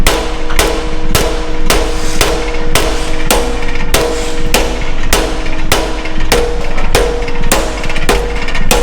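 A steady motor drone runs throughout, broken by sharp, regular knocks about twice a second, loud and close, with no talking, as holes are drilled out for a bigger rope pin on a D3 dozer.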